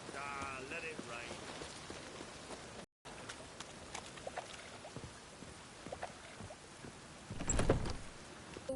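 Rain falls steadily in the video game The Witcher III, a soft constant patter throughout with a brief rush of louder noise near the end.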